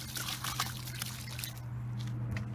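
Water trickles and pours into a clay mix being prepared for a solid fuel forge, a soft, close, continuous splashing that fades near the end and stays quiet throughout.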